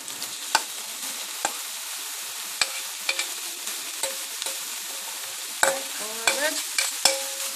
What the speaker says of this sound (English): I'm going to just stir this up a little bit. Try to saute for a few minutes.